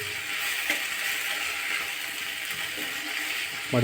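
Chopped tomatoes sizzle steadily in hot oil in a frying pan while being stirred, a continuous close hiss with occasional soft scrapes, no voices.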